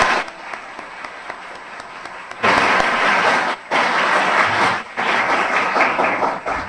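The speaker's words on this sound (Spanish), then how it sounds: "Agradezcámosle al profesor Eugenio Llamas con un aplauso en su presencia." Audience applause for Professor Eugenio Llamas at the close of an interview, starting with scattered claps, then swelling into louder bursts of crowd clapping broken by brief pauses.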